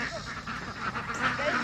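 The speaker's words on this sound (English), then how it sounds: "Quack, quack." Ducks being led out to a pond for their first time on the water give a quick run of close, nasal quacks in brief uneven bursts.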